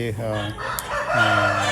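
A Thoorpu (Bhimavaram) breed fighting rooster, over fifteen months old and about two kilograms, crows loudly and close by, one call cutting off and a second rising crow following, with no talk over it.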